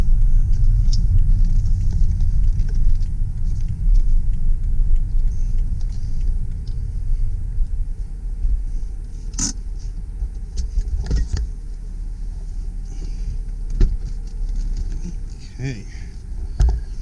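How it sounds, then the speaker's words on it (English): A 2006 BMW 330i E90 sport sedan with a six-speed manual rolls along a road, a steady low cabin rumble broken by a few soft thumps from bumps, with a voice talking over it. "So we go over the bumps in the road."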